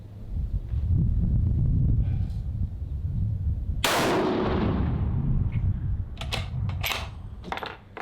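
A rifle fired from a bipod lets off a single loud, close shot that rings and decays, followed by scattered metallic clinks and clatter, over a constant low rumble.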